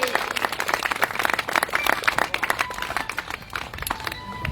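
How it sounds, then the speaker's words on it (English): Crowd applause at an outdoor Armed Forces Day rally honoring the Coast Guard, a dense, steady patter of many hands clapping throughout, with some cheering voices mixed in. "we'll applaud for the Coast Guard anyway"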